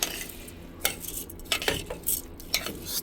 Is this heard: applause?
no